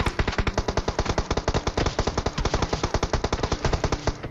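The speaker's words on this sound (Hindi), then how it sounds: "उसका फायर आ रहा है मेरे पे" Rapid automatic gunfire in the video game PUBG, a dense, evenly paced burst of dozens of sharp shots fired at the player, loud and continuous for about four seconds.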